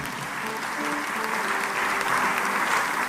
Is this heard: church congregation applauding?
yes